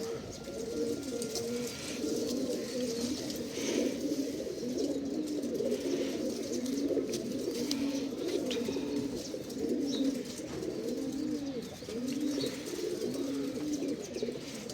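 Several pigeons coo continuously in overlapping, throaty phrases, close and steady over a dull background hum.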